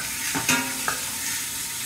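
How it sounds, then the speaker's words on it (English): Bacon sauteing in a pan, a soft steady sizzle broken by a couple of brief stirring clinks, close and short. "I'm going to take and we're going to saute some bacon. We're going to saute that up."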